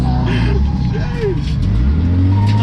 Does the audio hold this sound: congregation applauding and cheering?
no